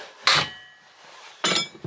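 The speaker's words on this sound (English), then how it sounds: "hit it with a copper hammer and it came straight off" Two sharp metallic blows from a copper hammer strike a Mitsubishi L200 prop shaft yoke clamped in a vise, each ringing briefly, followed by a lighter third tap, close and loud in a quiet workshop.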